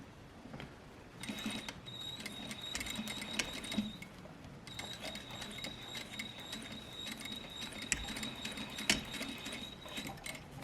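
A sewing machine stitches a tailored placket sewn right sides together, giving a quiet, steady mechanical whir with fine ticking and a few sharper clicks, no voices.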